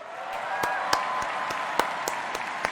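At the BlizzCon 2018 opening ceremony, a large convention crowd applauds in a steady roar, with a few sharper individual claps popping out of the wash and a faint tone running beneath.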